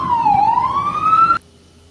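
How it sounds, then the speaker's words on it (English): A police siren wails loud and close for about a second and a half, its pitch sliding down then rising, before cutting off abruptly into near silence. "The sirens are coming, so he wants to get a few more shots in."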